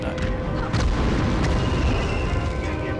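A grenade blast in the video game Medal of Honor Underground, a dense, booming low rumble that swells and holds across the clip with a few sharp bursts on top.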